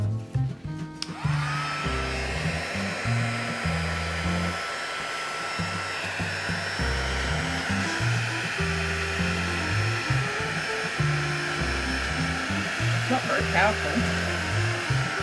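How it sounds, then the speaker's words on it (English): Hair dryer blowing steadily during a resin art session, a loud continuous whooshing drone that starts after a brief click and runs the whole time. "Might need the hairdryer."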